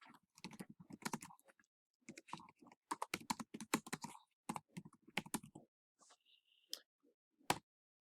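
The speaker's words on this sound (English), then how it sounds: "here you can type in whatever it was missing." Bursts of typing on a computer keyboard while entering closed-caption text, quick irregular clatters of keys in short runs with brief pauses, close and fairly quiet, with no talking.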